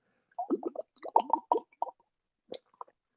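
Gulps and swallows come in short clustered bursts as someone drinks water, wet squishy and close in near silence, followed by a pause and two final sips.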